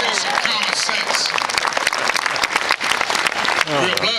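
An audience breaks into dense, loud applause at an evening Louisiana bicentennial kickoff event, sustained clapping filling the room with a voice speaking over it.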